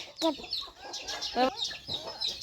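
Hens clucking in a farmyard as a mother hen pecks at her chicks, with repeated close clucks and brief bursts over a background of bird chatter and some faint voices.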